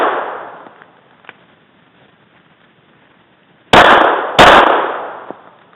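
A Glock 26 pistol fires two sharp, loud gunshots in quick succession at targets, each crack followed by a fading echo, with quieter range noise before them.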